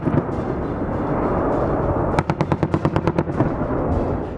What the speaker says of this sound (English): the M230 chain gun cannon is powered by a 2-horsepower electric motor capable of firing linkless ammunition